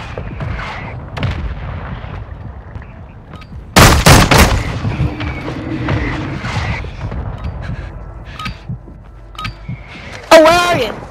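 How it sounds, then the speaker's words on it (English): Mortar strike explosions in Call of Duty land as heavy booming blasts and gunfire, loud and close, while players talk over radio chatter. "Mortar strike inbound now."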